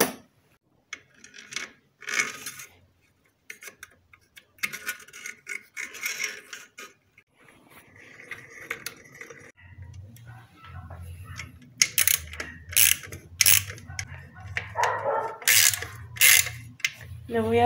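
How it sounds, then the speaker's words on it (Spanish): Screws being tightened on a slow-turning centrifugal water pump that is not pumping, with intermittent clicking ratchet-like mechanical sounds at first, then denser, louder metallic clicks and scrapes over a low hum, without talking. "Y voy a ajustar los tornillos."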